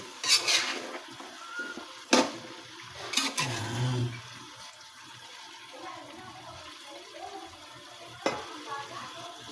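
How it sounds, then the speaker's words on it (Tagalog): Vegetables being stirred in a cooking pot, with scattered scraping and clinking bursts over a low sizzle and quiet room background; no talking. "Atin pong haluin."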